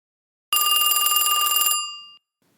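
A telephone bell rings in a single steady burst of rapid metallic trilling, about a second long, then stops and fades out, heard alone against silence.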